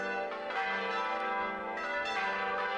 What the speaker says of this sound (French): il y a cette volée complète où la cloche fait un tour complet de son axe